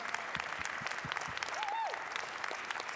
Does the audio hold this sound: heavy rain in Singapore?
no